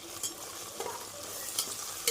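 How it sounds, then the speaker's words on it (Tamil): Onion and ginger-garlic paste frying for egg biryani: steady sizzling and crackling from a pan with occasional scraping stirs, close and continuous, no voices. "வெங்காயம் இஞ்சி பூண்டு விழுது இந்த அளவு நன்றாக வதங்கவும்"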